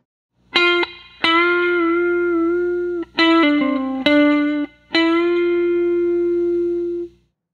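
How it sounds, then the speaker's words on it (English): Distorted electric guitar notes bend up a half step and waver with wide vibrato, five sustained phrases separated by short gaps. "give it a half step bend with lots of vibrato"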